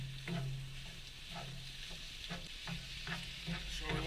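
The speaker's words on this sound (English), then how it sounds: "So we want to cook this until the beef is nice and brown and caramelized, as well as the onions" Ground beef and onions fry in a pan with a steady broadband sizzle, broken by several soft stirring scrapes at a fairly even pace, close and moderately loud, with no talking.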